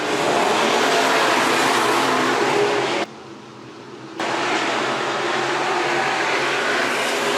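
Hobby stock and sport mod race cars roar around Worthington Speedway in a loud, continuous engine drone, briefly dropping away for about a second before the roar resumes.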